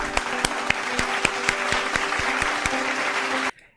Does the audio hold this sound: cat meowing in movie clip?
no